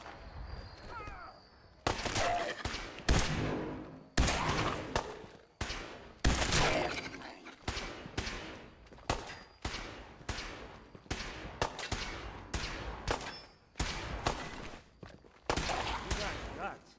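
Gunshots ring out in repeated loud bursts, each sharp crack followed by a brief decay, spaced every second or so across the whole stretch at close to medium range.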